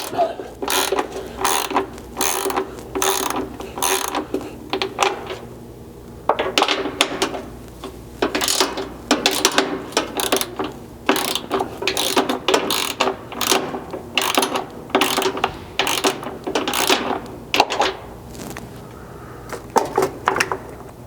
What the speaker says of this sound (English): The reason we switched to a ratchet here is because we just want to loosen these